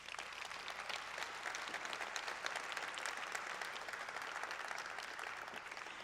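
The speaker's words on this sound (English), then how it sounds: "that does deserve some applause" Sustained applause from an audience at a transit agency's annual state-of-the-agency address, a steady dense wash of clapping holding at an even level with no talk over it.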